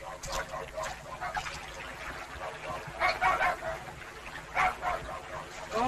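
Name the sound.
dogs barking during a forest raid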